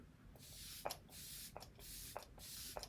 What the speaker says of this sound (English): I'm gonna prime my face with this Flower Beauty setting spray